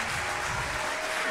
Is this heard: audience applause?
yes